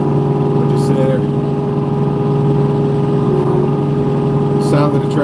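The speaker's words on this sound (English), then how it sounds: "The sound of the tractors are oddly calming from the outside." A Kubota LX2620 cab tractor engine drones steadily and loudly at close range while plowing snow, low and even, with a faint voice briefly audible over it.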